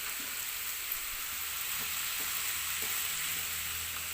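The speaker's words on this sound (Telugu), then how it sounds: "రెండు కలిపి ఒకేసారి ఫ్రై చేసుకోవాలి." Onion and bitter gourd slices fry together in a pan for kakarakaya fry, a constant close sizzle with a few soft taps of stirring spread through it.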